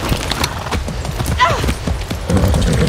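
A horse in the video game Far Cry 6 clip-clops at speed with a brief whinny, close and loud, while a person talks over it.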